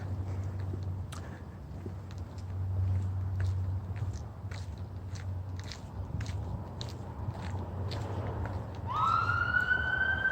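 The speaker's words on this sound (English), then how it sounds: "I cannot believe the number of sirens since I've started on this walk" A wailing ambulance siren rises in the distance near the end over steady outdoor traffic rumble, with faint clicking scrapes throughout.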